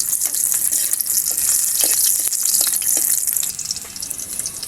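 Garlic sautéing in sweet oil in a pan, a steady bright sizzle with scattered crackles and pops running throughout, close and fairly loud.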